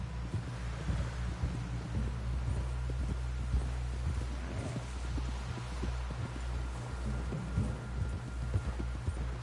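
Horse hooves clip-clop in a steady trotting rhythm in a video game, close and continuous over a low rumbling ambience with faint wind.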